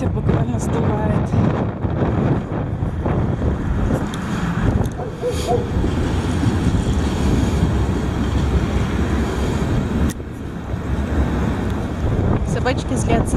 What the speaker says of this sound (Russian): Ветер буквально сдувает.